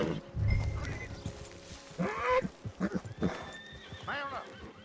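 Horses in the Red Dead Online video game whinny loudly several times, with hooves clip-clopping in between and someone speaking briefly nearby.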